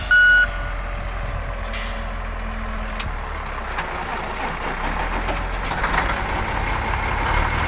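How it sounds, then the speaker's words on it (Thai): A road grader climbs onto a flatbed trailer while truck engines idle and rumble steadily nearby. A brief beep sounds at the start, followed by an air brake hiss and a low continuous engine drone. "ดูรถเกเดอร์ขึ้นเทเลอร์ นะครับ"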